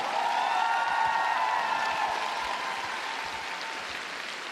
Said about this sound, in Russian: Ваши овации, Софья Муравьева!